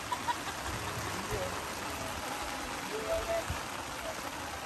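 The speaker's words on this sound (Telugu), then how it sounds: "ఓ మై గాడ్, అసలు నాన్ స్టాప్ వర్షం." Heavy, non-stop rain pours down steadily with a dense hiss, close and continuous, as someone speaks over it briefly.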